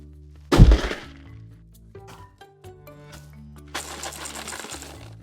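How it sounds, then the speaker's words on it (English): A box shaken by hand gives a sharp loud knock at the start, then lighter clicks and a looser rattle of small objects moving inside. No one speaks. "Same rattle as before."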